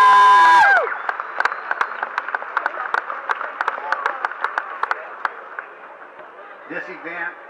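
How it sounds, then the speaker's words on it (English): Audience applause for community volunteers at the Boomtown 2011 event: a dense burst of clapping swells just after a voice stops, holds steady with sharp individual claps for several seconds, then thins out and fades. "we do show our appreciation by a big round of applause for the volunteers that keep this"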